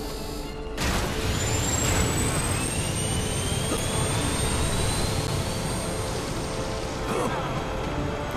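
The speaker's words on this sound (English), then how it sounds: "We've got ourselves a jet." A jet engine in the LEGO DC Super Villains video game roars steadily for several seconds, a loud, sustained rushing whine with rising high tones, starting abruptly after a brief quiet moment.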